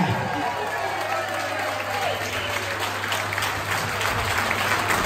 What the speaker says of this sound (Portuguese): Uma grande salva de palmas para o Ricardo Lajinha!